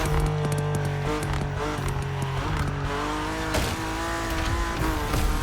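A car revs hard in the racing video game The Crew Motorfest, its engine loud and constant with shifting pitch as gears change, plus hints of tire squeal throughout.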